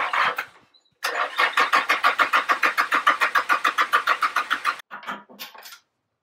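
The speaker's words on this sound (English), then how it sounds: "We're going to try start the engine." A budget drift car's starter cranks in a fast, even rhythm for about four seconds, then cuts off, followed by a brief rougher burst as the engine tries to fire.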